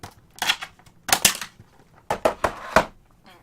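Small scissors snip at tough plastic packaging in short, crisp clusters of sharp crunching cuts separated by brief pauses, close up and fairly quiet.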